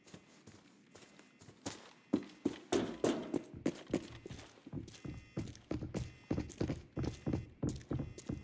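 Footsteps walking on the floor overhead in the shooter game Arena Breakout: Infinite, a steady run of thudding, hollow steps that grows louder partway through, with no speech.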